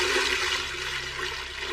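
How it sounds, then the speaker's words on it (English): An anime water-summoning magic spell sounds as a loud, steady gushing rush of water that pours continuously for under two seconds without any voice. "Water, come forth."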